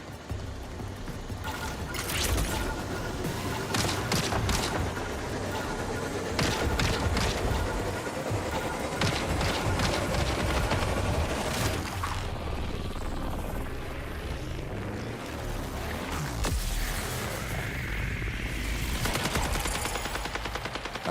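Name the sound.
gunfire in a video game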